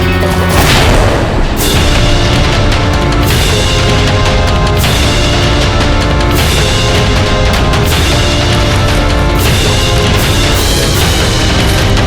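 A loud, sustained explosion effect from a historical drama about Maharana Pratap, with heavy rumbling booms and repeated crashing bursts that keep the level high for the whole stretch, with no voices.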